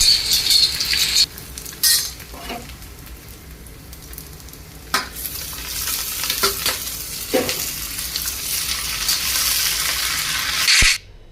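Spinach vegetable dish cooking in a pan at home, a steady sizzle and frying hiss with occasional stirring scrapes and clinks of a utensil against the pan, close and fairly loud throughout.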